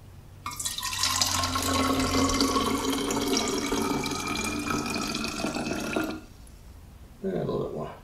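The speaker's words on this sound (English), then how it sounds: "Carefully pour the water in." Water is poured carefully into a solar-cooled desalinator in one steady, splashing stream of about six seconds. It stops abruptly, followed by a brief second splash, with speech around it.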